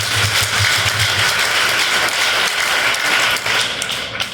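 A church congregation claps in praise of Jesus, a dense sustained burst of applause heard close and loud with a low background rumble, steady throughout before easing slightly at the end.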